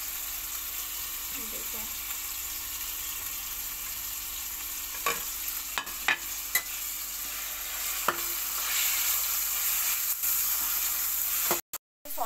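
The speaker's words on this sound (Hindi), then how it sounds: "अब हम लोग इसमें चिकन डालेंगे।" Small boneless chicken pieces frying in a pan, a soft steady sizzle with a few sharp spatula knocks and scrapes, a brief spoken word near the start.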